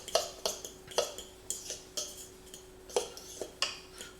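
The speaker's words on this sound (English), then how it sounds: "We're just mixing all the dry ingredients first." Dry keto bar ingredients, salt and powders, being stirred in a bowl, with a dozen or so sharp utensil clinks and scrapes against the bowl in an uneven rhythm, close and fairly quiet.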